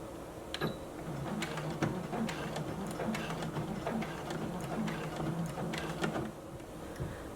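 A sewing machine backstitches along the seam of a fabric bag, making a steady, close mechanical whir with fine rapid needle ticks. It runs alone, with no talk.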